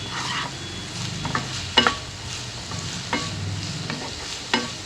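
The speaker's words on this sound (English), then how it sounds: "high flame and I'm going to saute the onions till around golden color" Chopped onions sautéing over a high flame in a pan, with a steady close sizzle and frying hiss and repeated clinks and scrapes of a spoon stirring throughout.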